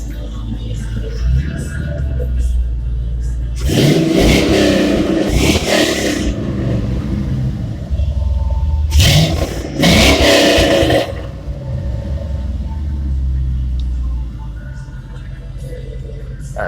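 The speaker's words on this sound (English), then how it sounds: "Let me let you hear the exhaust." A 1958 Chevy 3100 pickup's exhaust idles with a steady rumble, then rises in two strong rev bursts a few seconds apart before settling back to idle, heard up close.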